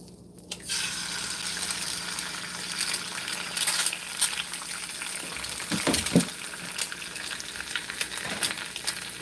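A single egg fries in very hot oil, giving a loud, continuous close-up sizzle with fine crackling throughout and a couple of brief utensil knocks partway through. No one speaks.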